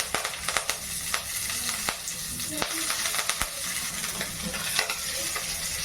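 Green chillies and curry leaves hitting hot oil in a pan set off a steady, bright sizzle with sharp crackles and pops scattered through it, loud and close, with stirring and no talk.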